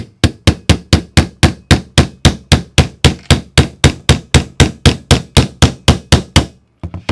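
A hammer taps a pin into the backstrap of a CZ P10 pistol, about two dozen sharp, evenly spaced strikes close up and loud, with a brief pause near the end before the tapping resumes.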